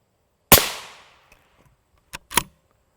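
A single loud, close rifle shot from a 22-inch barrel striking UHMWPE armor plate, with a sharp crack and decaying tail, followed by a couple of softer clacks of handling.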